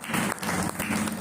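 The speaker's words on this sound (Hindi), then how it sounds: "इनके लिए जोरदार ताली होती है साहब" Audience applause at an anniversary celebration held at a Baba Ramdev temple, a loud, dense crowd clapping steadily with brief dips, close and continuous.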